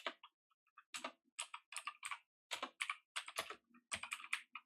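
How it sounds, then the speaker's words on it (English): Computer keyboard typing in short bursts of close, crisp key clicks with brief pauses between words, alone without any voice. "So let's type our information in."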